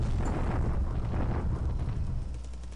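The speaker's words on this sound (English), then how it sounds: "All you do is hear guns" Continuous rumbling gunfire and bombardment from a Pacific War naval strategy game, a dense, loud, booming roar with overlapping low blasts that barely lets up across the whole clip.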